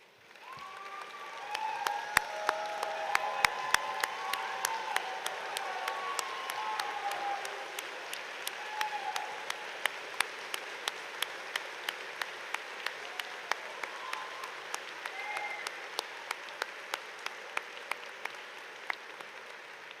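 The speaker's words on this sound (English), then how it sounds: "let's give them all a round of applause" A commencement crowd claps for graduates at a spring engineering ceremony, a full round of applause that swells early then thins into scattered sharp individual claps toward the end, fairly distant in a large hall.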